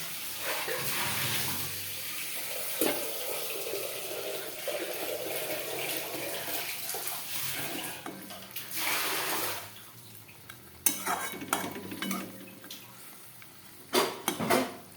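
Water poured into a pan holding boal fish for a patori dish, a continuous splashing stream that fades out and is followed by clinks and knocks of cookware.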